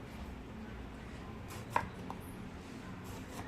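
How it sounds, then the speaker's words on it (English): A knife chops eggplant into thin rounds on a board, a few quiet, sparse taps with one sharper cut standing out over soft room noise. "Now I'm gonna chop my eggplants, also known as brinjal."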